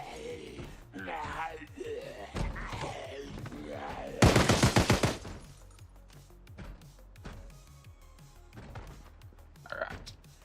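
Gunfire in the survival game Project Zomboid: a loud, dense burst of rapid shots lasting under a second, rising over ongoing talk and game noise.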